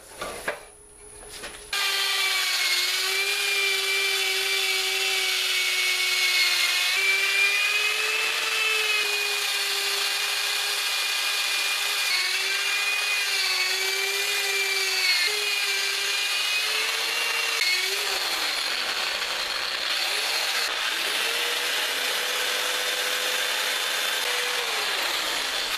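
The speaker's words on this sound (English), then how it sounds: "And now I'll do the inside, sand it down, and put a finish on it." A wood lathe spins a dried cherry bowl while its inside is turned and sanded. A steady, loud tonal whir with scraping and rubbing holds for most of the clip, then dips and shifts near the end.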